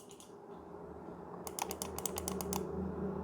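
Forward side-button clicks on a Razer DeathAdder V3 Pro gaming mouse: a quick run of about eight sharp, crisp ticks close up, following one brief click and a short pause.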